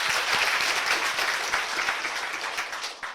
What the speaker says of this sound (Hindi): अब बजाओ तालियां एक बार जोर से।